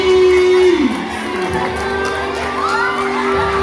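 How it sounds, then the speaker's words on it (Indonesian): Children and adults cheer, shout and whoop for a student at a primary school fashion show, a loud excited crowd with a public-address tone ringing through, sustained throughout. "Ini tepuk tangan yang meriah untuk Kenji"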